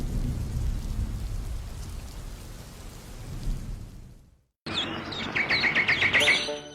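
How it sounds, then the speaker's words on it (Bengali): Steady rain pours outdoors with low rumbling, like distant thunder, then cuts out briefly; afterward the rain resumes alongside bright bird chirps and tweets, fairly loud and close. "বৃষ্টি শুরু হয়েছে আবার।"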